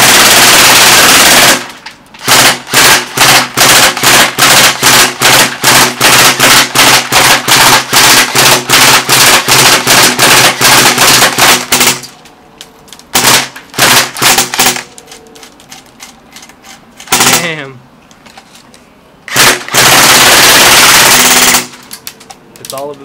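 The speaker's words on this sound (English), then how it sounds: "I guess I'm just gonna unload the whole mag on this thing." A KWA KM4A1 upgraded airsoft rifle fires a full magazine: long loud bursts of rapid, evenly spaced shots close to the mic, then shorter bursts and a few single pops with brief gaps.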